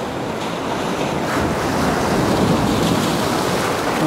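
Sea waves surge and crash onto the shore in a steady, loud wash, with strong wind buffeting the microphone throughout and no voices.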